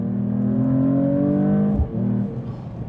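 Mercedes-Benz E53 AMG in Sport Plus mode accelerating, its steady engine drone climbing smoothly in pitch, then a brief dip at a gear shift before the tone picks up again; close, continuous and free of talk.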